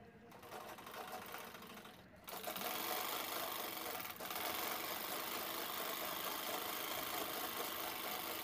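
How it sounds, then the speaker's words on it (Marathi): An electric sewing machine stitches the two ends of a zip on a fabric tote bag, running as a steady, close mechanical whir after a brief pause near the start, with no voices. "त्यानंतर झिपचे दोन्ही टोक आपल्याला शिवून घ्यायचे आहेत।"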